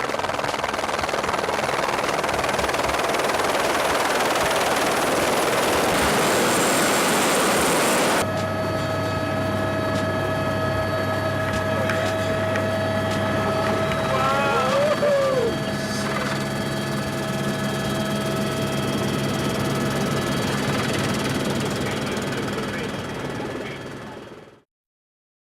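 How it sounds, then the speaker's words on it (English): Helicopter arriving to pick up snowboarders in the mountains, a loud continuous rotor and engine roar that shifts character partway, then cuts off abruptly at the end. "And that's the heli coming to pick us up."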